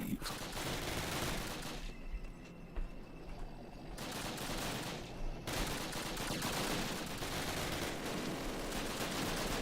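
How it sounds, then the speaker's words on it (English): Dense, continuous machine gun fire in a Call of Duty campaign rattles loudly, drops off briefly, then resumes with a steady wash of game battle noise. "Just the constant machine gun fire."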